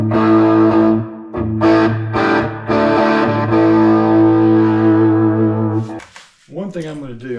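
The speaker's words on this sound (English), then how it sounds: "I haven't really played it with any distortion on it yet." Heavily distorted chords ring out from an EART T380 electric guitar, struck in several loud sustained strums with brief gaps, then a short wavering bent note at the end.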